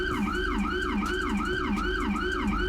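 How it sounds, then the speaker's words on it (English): Police car siren in the GTA 5 LSPDFR video game, a fast rapid wail cycling up and down several times a second, loud and continuous with no talk. "You do the D-pad down to activate the sirens."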